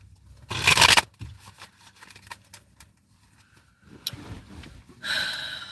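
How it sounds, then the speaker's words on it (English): Tarot cards being shuffled by hand, with a loud riffling burst near the start, scattered soft shuffling and tapping through the middle, and another riffle toward the end, close by. "Last shuffle."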